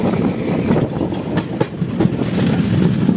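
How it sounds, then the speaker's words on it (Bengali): An Indian express train, the 15604 Ledo–Guwahati Intercity, pulls out of Amguri Junction railway station in the evening. Its heavy, steady rumble and rhythmic clatter of wheels fill the whole stretch up close. "সন্ধ্যে 7:53 train Amguri junction railway station ছেড়ে তার পরবর্তী গন্তব্য মারিয়ানি জংশন রেলওয়ে স্টেশনের উদ্দেশ্যে রওনা হলো।"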